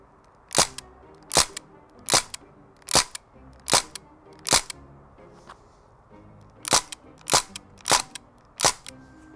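An AR-15 style BB gun fires at a pumpkin, giving sharp cracking shots in two bursts, six evenly spaced, a brief pause, then five more, close and loud without talk.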